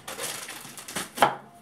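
Stale Cheetos being crushed by hand, a dry crunching and crackling that rises to a sharper snap near the end, close and fairly quiet, with no talk.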